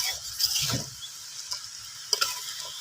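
Khichuri of chickpeas, khesari and masoor dal with potato stirred in a pot over a steady sizzle, with a few scraping strokes close by and no voices.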